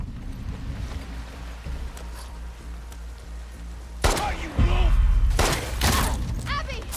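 A single sharp gunshot rings out in The Last of Us Part II, followed by a heavy thud and a rumbling low-end impact, with speech-like voices overlapping the moments after.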